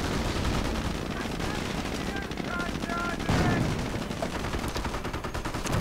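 Machine-gun fire and cannon blasts from a Sherman tank in a World War II video game battle, sustained rapid bursts rattling under dense combat noise, with a voice talking over it.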